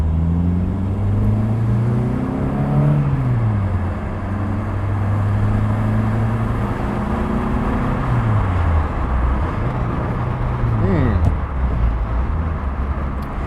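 A Volvo 480 cruising on the road, its engine drone shifting pitch through gear changes with steady road and wind noise inside the cabin.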